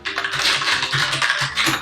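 Quick, steady typing on a computer keyboard while taking notes, a close run of light clicking keystrokes heard alone.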